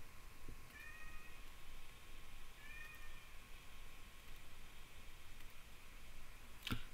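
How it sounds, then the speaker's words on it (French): A cat meows twice inside a video game, both calls short and fairly faint, spaced about two seconds apart over a steady low background hum. "J'ai un chat qui gueule."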